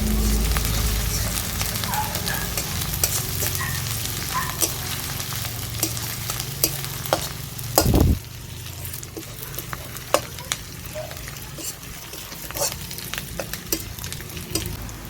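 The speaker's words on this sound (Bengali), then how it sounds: "ভালো করে আমি নেড়ে চেড়ে নিচ্ছি যাতে রসুনের কোনো কাঁচা গন্ধ না থাকে।" Chopped onion, garlic and ginger frying in a pan, a constant loud sizzle broken by clattering strokes of a spatula stirring and scraping, with one heavier knock midway and no talking.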